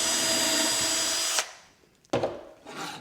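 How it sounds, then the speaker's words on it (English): A power drill whirs steadily while boring screw pilot holes in wood through a Kreg concealed hinge jig, then stops, followed by a couple of short scraping bursts as the bit or jig shifts. "So you just use that little inset part of the jig there, get a hole started for your screws"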